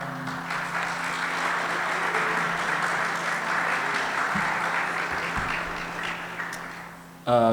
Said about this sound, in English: Can we give our panelists a round of applause today?